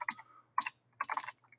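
Typing on a computer keyboard: three short bursts of clustered key clicks with brief pauses between them, close and fairly quiet.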